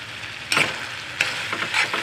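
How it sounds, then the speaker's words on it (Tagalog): Isaw, grilled chicken intestine, crisping in hot cooking oil: a steady close sizzle with a few sharp spattering bursts from stirring, no voices. "Prito na, tapos lagyan natin ng mantika."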